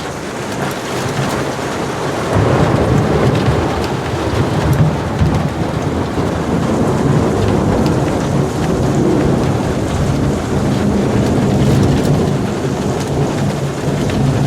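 Heavy rain drums steadily on a car during a night thunderstorm while car camping, with thunder rumbling under the dense, loud, continuous downpour.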